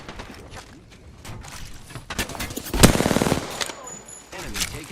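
Automatic weapon fire in the battle royale shooter Apex Legends: a rapid, close burst of evenly spaced shots ringing out for about half a second amid softer game noise, with voices talking over the action.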